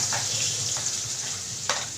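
Onion and green chilli sizzle in oil left over from frying fish, a steady close crackle with a few sharper spatters popping out above it, no voices.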